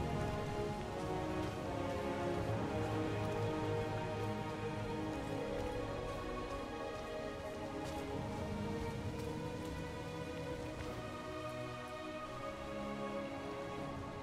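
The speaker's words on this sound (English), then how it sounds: "What is this rain?" Steady rain falls throughout a scene in the video game Diablo 4, a continuous even hiss of drops on surfaces with faint layered tones beneath and no talking.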